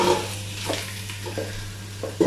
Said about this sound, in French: Alors maintenant, je vais venir verser les morceaux de bœuf